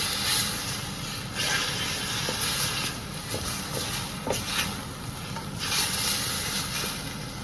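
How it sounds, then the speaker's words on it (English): Chow mein with teriyaki sauce stirred continuously in a hot pan, a steady close sizzle and hiss with scraping stir strokes recurring throughout, no voices. "Mix it all up. Make sure that you keep mixing."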